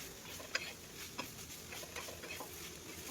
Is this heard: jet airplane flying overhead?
no